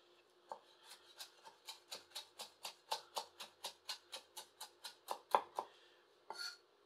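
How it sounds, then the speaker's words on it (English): Parsley being rock-cut with an olive wood handled knife, giving a steady run of about twenty crisp, evenly spaced chops against a board, close and fairly quiet with nothing else around them. "next thing we're going to try to cut up some parsley and get some real good rock cuts in"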